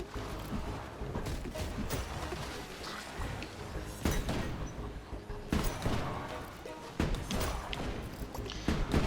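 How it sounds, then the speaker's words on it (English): In-game explosions and impacts in the roguelike Ship of Fools: a busy run of thumps, bursts and crackling hits, with sharper blasts near four, five and seven seconds, set amid steady game noise at moderate loudness. "So now we see with the explosion to kill them."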